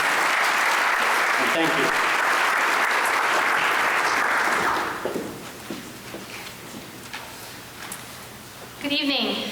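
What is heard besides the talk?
audience applause at a high school scholarship night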